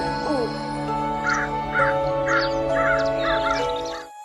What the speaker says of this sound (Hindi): पक्षी चहचहा रहे थे